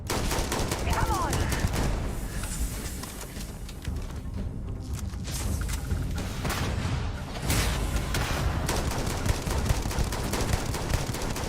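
Dense, continuous gunfire in the space game Starfield, with rapid overlapping shots and bursts that keep up loudly throughout, fading slightly in the middle, and a voice under the fire.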